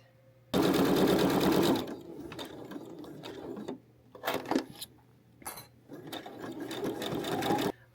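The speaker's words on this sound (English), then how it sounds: "We're going to sew the rows together and make sure that your seams are sandwiched" A sewing machine stitches quilt block rows together, running in close bursts: a loud continuous whir at the start, softer intermittent stitching and handling in the middle, then another steady run toward the end.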